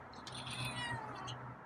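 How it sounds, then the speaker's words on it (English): A cat lets out a drawn-out, wavering meow close by, loud and alone with no talking. "that is a real meow"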